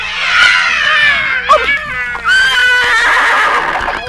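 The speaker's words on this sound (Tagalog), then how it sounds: "Kabayo?" A loud, close horse neigh, a long shrill whinny that wavers and breaks, then rises again with a second drawn-out call, heard alone without talk.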